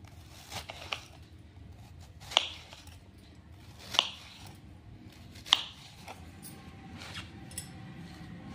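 A knife slices a guava into pieces, giving a few crisp, sharp cutting clicks spaced a second or so apart, close and quiet against a faint background.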